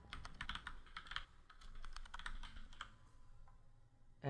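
Quick, close keystrokes on a computer keyboard while a password is entered, a busy burst of clicks that slows and thins toward the end.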